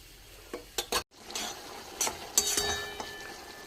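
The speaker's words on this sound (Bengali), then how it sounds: "বেশ কিছুক্ষণ ধরে নাড়াচাড়া করব" Mushrooms are stirred in a pan with a few sharp spatula scrapes and clinks over a soft sizzle. A brief silent gap comes before the stirring and frying resume, close and moderately loud.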